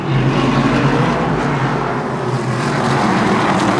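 Short track race cars at the green flag roar with a dense, loud, sustained engine drone as the pack accelerates together, filling the scene without pause.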